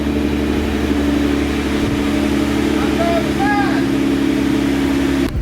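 A Nissan R35 GT-R engine drones steadily from inside the cabin, holding a low hum with faint pitch rises while a voice briefly talks over it.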